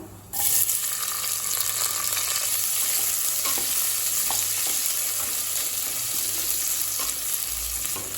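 Sliced onion sizzles loudly in hot oil seasoned with fennel and cinnamon while potato rice is prepared, a steady, close, unbroken frying hiss with no talking.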